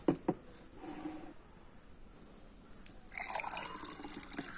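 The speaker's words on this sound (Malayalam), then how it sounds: "ആദ്യം തന്നെ ഒരു ഗ്ലാസ്സിലേക്ക് നിറച്ച് വെള്ളം എടുക്കാം" Water pours into a glass with a soft trickling, a couple of clinks at the start, then a brighter, fuller pour toward the end.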